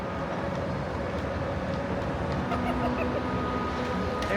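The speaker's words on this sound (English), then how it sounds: "But you can see monorails going by here, so that's fun." A Disney monorail passes near the Polynesian Island Tower as a steady, close rumble of rail transport that stays loud throughout, with a faint voice now and then.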